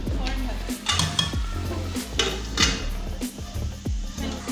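Oil poured onto hot charcoal for smoking chicken tikka boti gives a close, steady sizzle, broken by repeated sharp metallic clinks and knocks of pans and utensils.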